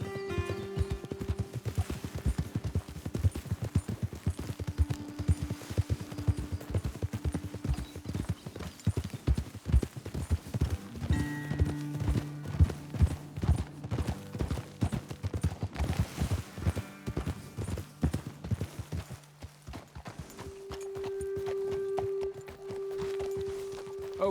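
Horse hooves clip-clop at a steady walking rhythm while riding in Red Dead Redemption 2, close and continuous for the whole stretch, with soft tonal game sounds drifting in and out beneath the beat.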